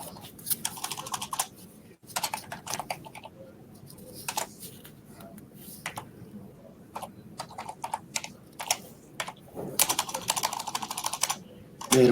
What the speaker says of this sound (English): There with my typing.